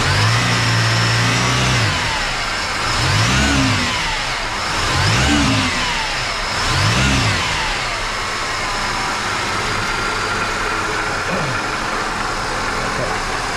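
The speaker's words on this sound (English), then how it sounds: "So I'll give the engine a bit of a rev." A Holden Commodore V6 engine with a vibration fault idles close by and is revved three times in quick, smooth swells before settling back to a steady idle.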